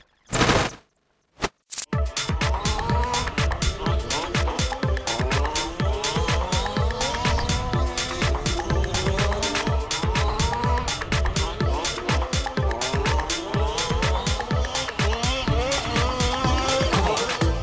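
Large-scale model race cars circle a track at a plastics model expo, their motors whining and buzzing continuously with rapid rattling pulses, loud and close, after a couple of short bursts at the start.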